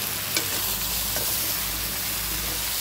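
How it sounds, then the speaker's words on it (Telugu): Dried palm sprout curry with chilli powder and salt fries in a pan, giving a loud, continuous close sizzle with a faint stir or two. "ఇదో చూడండి ఎలా వేగుతుందో"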